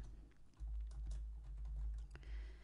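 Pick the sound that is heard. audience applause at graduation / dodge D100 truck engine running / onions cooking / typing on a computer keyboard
typing on a computer keyboard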